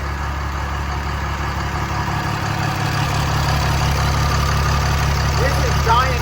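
A budget compound-turbo shop truck's engine idles with a steady, heavy low rumble that swells slightly louder toward the end, close and continuous, with faint voices in the background.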